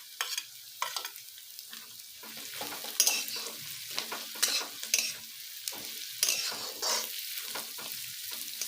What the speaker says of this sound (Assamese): এয়া মই নহৰু ভাজি ল'লোঁ